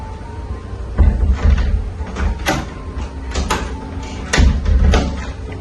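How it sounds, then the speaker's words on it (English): A door with a newly installed doorknob is pushed shut, giving several sharp knocks and clicks as it closes and the latch catches, close and fairly loud in a quiet room. "it should be checked that the door latches securely when closed."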